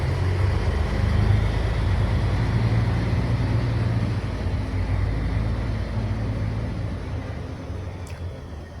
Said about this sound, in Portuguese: Ai, vai vir um caminhão agora, que delícia, cara.